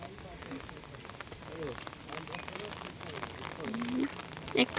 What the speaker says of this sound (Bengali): একটু কমেছে বৃষ্টিটা,